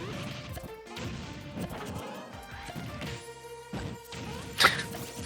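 Luigi's plunger attacks in Super Smash Bros. Ultimate land as a busy run of cartoonish smacks and plinky hits over game music and effects. The level stays fairly steady, with one sharper, brighter impact near the end.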